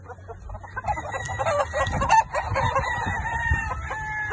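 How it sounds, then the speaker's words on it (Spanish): Chickens cluck busily and a rooster crows at a poultry seller's veterinary shop, loud and close, with overlapping calls throughout and a voice faintly in the background. "Aquí tenemos pollo de todos los tamaños, a todos los precios"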